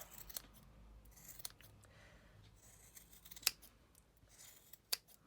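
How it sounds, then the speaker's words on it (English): Quiet, close snipping of scissors trimming a yarn pom-pom, with a few isolated sharp cuts spaced apart against near silence. "I love trimming pom-poms."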